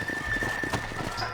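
Horses clip-clopping and shifting as riders dismount in the Red Dead Redemption video game, a steady close thud of hooves with a faint background tone and no talk.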